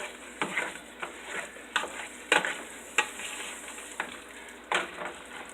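Ground meat browning in a hot pan for crockpot lasagna sizzles steadily, punctuated by regular scraping strokes of a spatula stirring it, close and with no talking.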